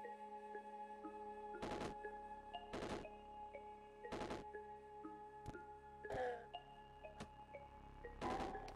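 Gunfire in the roguelike game Caves of Qud: about eight sharp, loud shots land at irregular intervals over a quiet, tonal game background.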